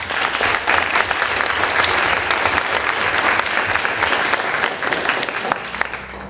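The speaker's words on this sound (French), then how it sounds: "Je vous demande d'applaudir Madame Mathilde Béal" A hall audience at the IAE Lille eloquence contest final applauds a jury member, a thick, loud, continuous roar of many clapping hands filling the whole stretch.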